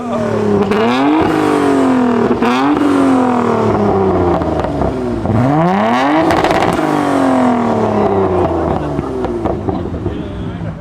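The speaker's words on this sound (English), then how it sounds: "He's letting a kid rev." A car engine revs loudly and repeatedly at a supercar meet, pitch rising and falling in sweeps, close by and continuous.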